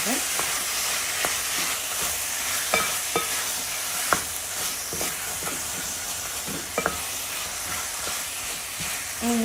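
Chicken being stirred in a hot pan, a soft steady sizzle with scattered spatula scrapes and taps, moderately close and without voices.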